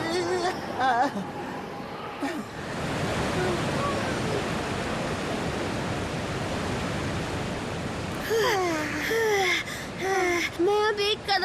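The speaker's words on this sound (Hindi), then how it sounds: "ये झरना बहुत ही सुंदर है।" A cartoon waterfall gives a steady rushing roar in the middle of the scene, with animated characters talking before and after it.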